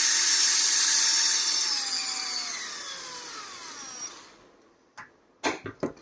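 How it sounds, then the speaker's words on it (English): An electric drill fitted with a 1/8 inch bit whines at high pitch while boring a hole, the motor tone sliding downward as it slows and stops, followed by a few sharp clicks and knocks. "So I put a 1/8 inch bit inside the drill chuck and tighten it."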